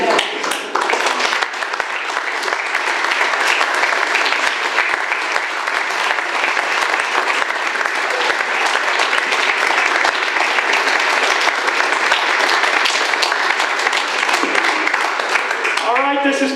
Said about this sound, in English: get ready for that applause block